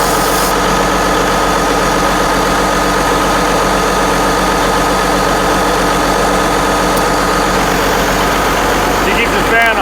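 A Ford CLT9000 truck engine idles steadily and close by with a continuous low rumble and vibration, running alone for nearly ten seconds.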